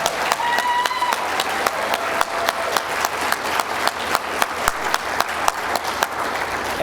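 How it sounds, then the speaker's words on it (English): An audience at a university achievement celebration breaks into a steady round of applause, many hands clapping in a fairly regular rhythm that holds throughout, with a brief voice near the start. "Let's share one more round of applause for all those celebrated this evening."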